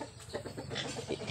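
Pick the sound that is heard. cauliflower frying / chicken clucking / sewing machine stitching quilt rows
chicken clucking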